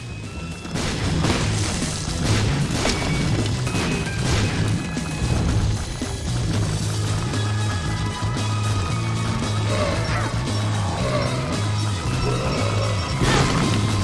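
Repeated blasts and crashing bursts from explosions in The Binding of Isaac: Repentance, scattered impacts over a looping game soundtrack, fairly loud and up close throughout.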